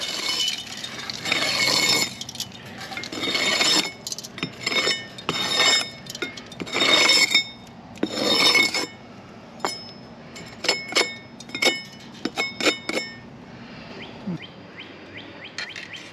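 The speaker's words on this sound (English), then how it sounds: "Let's see if I can't scrape some of this off." Bursts of rough scraping as bat guano is scraped off a house's attic vent, coming in repeated strokes, then giving way to sparse sharp clicks and chirps over a quiet background.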